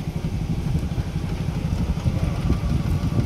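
A Riccar sewing machine runs steadily, giving a continuous close mechanical clatter and low motor hum at an even pace throughout, with no talking.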